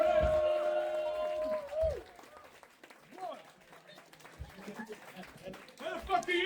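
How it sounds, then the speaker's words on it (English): Crowd applause and cheering at a stand-up comedy show in Berlin as a comedian is welcomed to the stage, a moderate wash of clapping beneath a host's amplified voice, which opens loudly before the clapping takes over. "please help me welcome to the stage with a wonderful round of applause"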